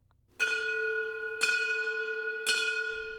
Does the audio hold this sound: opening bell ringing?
yes